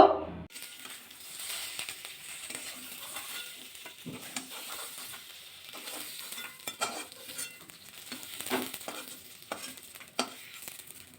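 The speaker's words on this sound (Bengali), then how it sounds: "এদিকে শিম বেগুনটা কিন্তু ভাজা হয়ে গেছে তুলে নেবো" Flat beans and eggplant fry in hot oil in a pan, a continuous crackling sizzle with occasional stirring scrapes and clinks, close and fairly soft.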